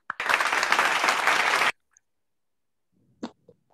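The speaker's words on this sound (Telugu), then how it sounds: "క్లాప్స్ పట్టుకో." Children at a church children's club give a burst of applause, a dense, close clatter of many hands lasting about a second and a half, then stopping abruptly, followed by brief faint voice fragments.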